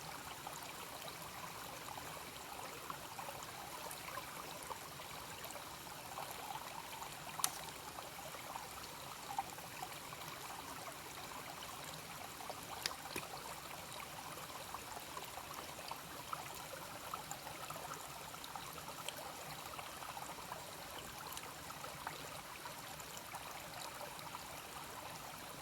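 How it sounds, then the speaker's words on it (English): A cold stream flows beside a hiking trail on the Eagle Rock Loop, giving a steady, even trickle and babble of water throughout with no voices. "there's nothing better than a nice cold stream whenever you're in need of water"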